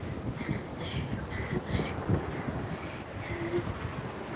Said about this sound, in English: Oh gosh, it's getting even more windy.